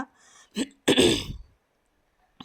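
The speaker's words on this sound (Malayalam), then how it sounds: "എനിക്ക് ചുമയൊക്കെ വരികയാണ്" A single harsh cough or throat-clearing bursts out close up, preceded by a brief breathy sound, then silence.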